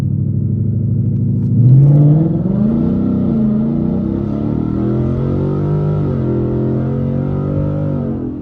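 A 10-speed Ford Mustang GT with a 5.0 V8 holds a loud, close rev near 1500 RPM, then surges as it launches from a standstill, the deep engine drone climbing steadily and filling the whole stretch.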